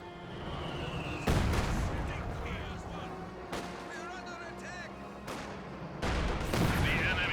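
A Maxim machine gun fires in a Company of Heroes 2 battle, with sharp bursts of gunfire and distant artillery-like thuds breaking through a steady battlefield din while a commentator talks throughout.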